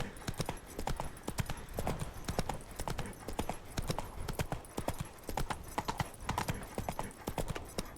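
Roach, the horse in The Witcher 3, gallops with fast, rhythmic clip-clopping hooves, loud and close, continuing steadily throughout.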